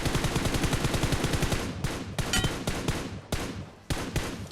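Rapid automatic gunfire in a military battle-royale video game, with a dense burst of close, loud shots followed by several sharp single reports and short bursts, no talking.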